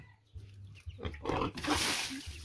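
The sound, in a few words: pet pig being bathed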